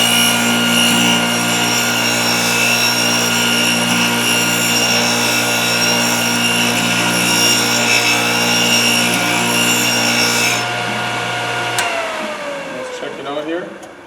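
A Thorvie AV-40 sharpening machine grinding the flutes of a router bit gives a loud, steady whine with strong tonal hum that cuts out near the end, followed by a brief spin-down and faint handling noises.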